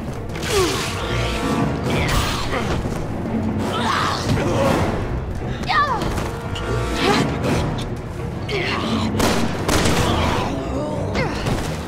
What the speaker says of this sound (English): Shoot her!